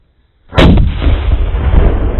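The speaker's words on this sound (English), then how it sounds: "we're going to create a rocket by putting a firecracker underneath a can, and we're going to blast that can up in the air" A firecracker bursts under a can, launching it upward: after brief quiet, one sharp, loud blast cracks out close by, then rumbles and echoes broadly for a couple of seconds as it fades slowly.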